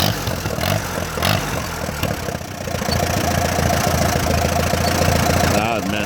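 A 1946 tractor engine idles outdoors with a steady low chugging rumble, preceded by a few clanks and shifts before settling into an even, continuous run.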